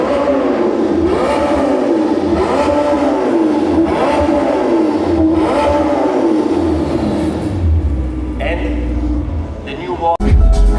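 Lamborghini Temerario twin-turbocharged V8 revving close by, its loud engine note rising and falling in repeated sweeps before a deeper rumble and a sharp blip near the end.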